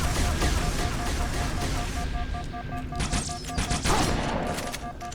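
Rapid plasma fire and blasts from a Halo 2 firefight on Legendary, with overcharged plasma pistol shots among dense, loud, continuous gunfire and explosions that swell and crackle throughout.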